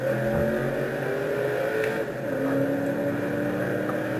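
Simulated race car engine from a racing video game played with a steering wheel, holding a steady high drone with a shift in pitch partway through as it pulls up through the gears, loud and continuous with no talking.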